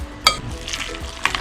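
Chicken siomai filling with garlic, ginger and egg being stirred in a bowl, a close, fairly loud wet mixing with two sharp clinks of a utensil against the bowl.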